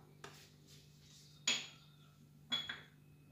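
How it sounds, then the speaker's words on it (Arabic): A metal frying pan is set down and handled on a stovetop before cooking onion, giving three separate clanks and clinks close by against a steady low hum, with no talking. "انا جبت هذه المقله ندير فيها البصله"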